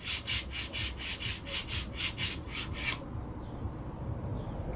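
Steel chisel blade being deburred on a Sharp Edge sharpener, a run of about ten quick, even rasping strokes up close, then stopping and leaving a quiet room.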